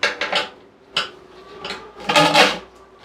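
Ordinary metal spoons clink and rattle against the rim of a cooking pot during a home distillation setup, giving a few sharp separate knocks followed by a louder cluster of clattering near the end.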